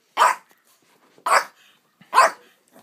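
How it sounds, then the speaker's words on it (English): A dog barks three times, evenly spaced, each bark short, close and loud, with quiet gaps between and no talking. "Ooh, evil dog. Evil dog."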